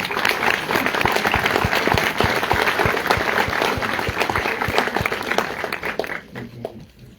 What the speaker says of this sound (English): Give a round of applause to the candidates here.